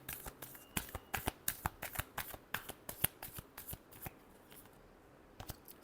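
Tarot cards are shuffled by hand in quick, crisp riffles close to the listener, about fifteen sharp slaps in a fast, even rhythm before they trail off into quiet.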